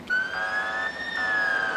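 An ambulance siren wails as it arrives at an accident scene, a clear rising and falling tone at moderate distance, steady and alone without voices.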